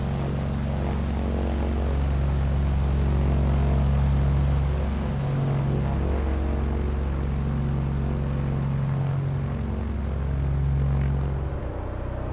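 A GA-8 Airvan's propeller engine drones steadily in a flight simulator as the plane taxis on a tiny island runway, a loud, continuous low hum with slight pitch shifts as throttle changes, no talk.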